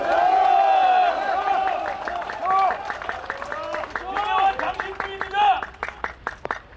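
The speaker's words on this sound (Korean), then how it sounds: "공감하시면 박수 한번 쳐주시기 바랍니다." A crowd claps in rhythm at a political campaign declaration event held at a national science museum, the steady claps mixed with loud voices and cheering throughout.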